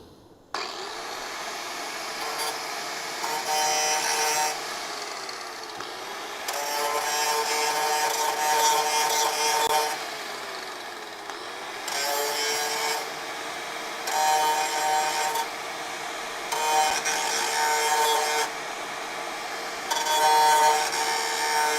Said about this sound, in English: Grinding wheel incoming.